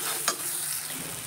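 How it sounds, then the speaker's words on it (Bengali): Turmeric, cumin and pepper powders are stirred into a frying mixture in a pan for ghugni, a short burst of scraping over a steady close sizzle, with no voices. "এবার এর মধ্যে দিয়ে দেব হলুদের গুঁড়ো, দেব জিরের গুঁড়ো আর দেব গোলমরিচের গুঁড়ো দিয়ে একসঙ্গে একটু মিশিয়ে নিয়ে"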